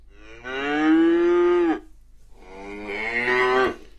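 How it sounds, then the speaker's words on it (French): Two long, loud cow moos, each lasting over a second, with a short pause between them and no other sounds. "Quel bruit fait la vache Voici une vache."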